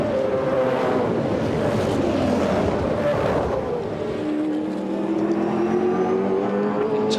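V8 Supercars racing at Pukekohe Raceway in the 2007 championship, with loud, steady engine roar from cars running through the race, the pitch rising and falling continuously with no talk over it.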